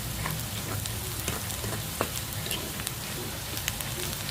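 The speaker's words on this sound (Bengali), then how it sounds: "তেলের সাথে পেঁয়াজটা ভালোভাবে ভেজে নিতে হবে" Chopped onion fries in oil in a pan with a steady close sizzle, peppered with small crackles and sharper pops throughout.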